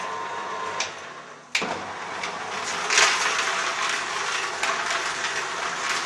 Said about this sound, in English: All you have to do is hit the reverse, back it up again, let it start juicing.